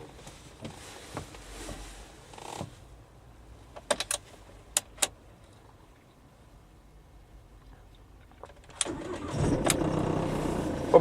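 A small car is started: a few sharp clicks and a brief crank are followed by the engine catching and settling into a steady, moderately loud idle close by.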